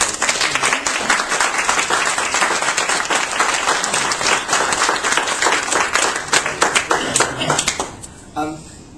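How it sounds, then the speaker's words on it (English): A room of listeners at a farewell speech gives applause, loud, close, crisp clapping from many hands that continues for several seconds and then thins out and stops near the end, leaving a few sparse claps and a soft voice. "maybe you'd like to give the School of Hospitality a small round of applause"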